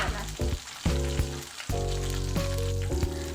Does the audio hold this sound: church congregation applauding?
no